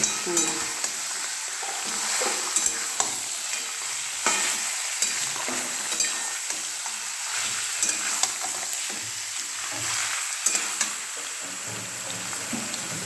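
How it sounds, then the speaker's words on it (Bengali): Mutton frying in a pan on a home stove, stirred steadily: a loud, constant sizzle runs throughout with repeated scraping and clinks from the spoon, and no voices. "মাটনটা দিয়ে ফ্রাই করছি"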